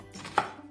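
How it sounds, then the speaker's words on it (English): A single knife stroke chops through onion on a board, one short crisp thud in a quiet kitchen. "we're going to start by cutting our onions"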